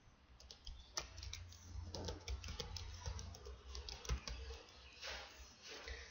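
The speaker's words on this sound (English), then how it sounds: "I'm going to type some SQL commands" Quiet, irregular clicking of a computer keyboard as SQL commands are typed, soft keystrokes in short bursts with brief pauses between them.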